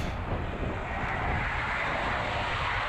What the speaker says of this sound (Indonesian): Tuh menggelegar suara knalpotnya kayak pesawat.